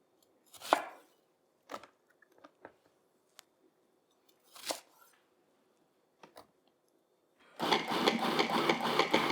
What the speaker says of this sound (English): Let me cut them a little bit.